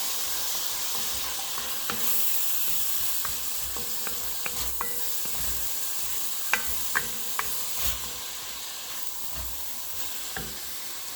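Vegetables with pepper cooking down in oil for pasta e fagioli, a steady close sizzle and hiss with scattered light clicks and scrapes of a utensil in the pan.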